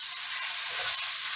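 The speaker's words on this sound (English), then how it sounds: "I'm going to just cook up this bacon" Bacon sizzles steadily in a pan on a camping stove, a soft, continuous hiss and crackle at low volume with no voices over it.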